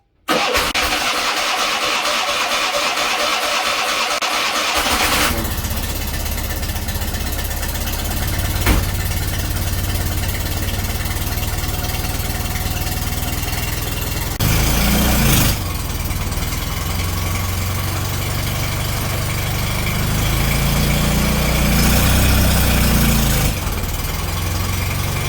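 A Fiat 500 engine cranks and catches after a few seconds, then idles loudly up close, swelling twice with throttle as the car reverses up onto ramps before settling back toward idle.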